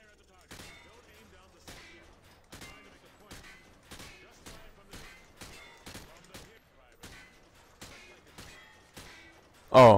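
Gunfire from Call of Duty: Modern Warfare 2 crackles as a string of separate, evenly spaced game gunshots over ten seconds, moderately loud, ending with a sudden much louder burst as a voice begins.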